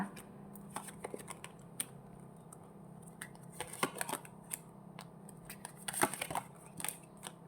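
Tarot cards being shuffled for a reading, giving soft irregular riffles and flicks with sharper card snaps near the end, quiet and close with no talking.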